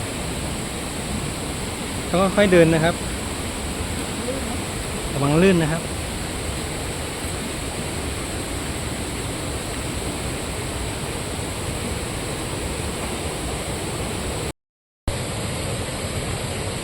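Mok Fa waterfall in Doi Suthep-Pui National Park, Chiang Mai, in the rainy season, gives a constant broad roar of rushing water. Someone speaks briefly over it twice, and the sound drops out for a moment near the end.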